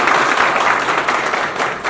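Audience applause at a journalists' gathering, a steady dense wash of clapping that holds for the full two seconds, loud and close with no voices over it.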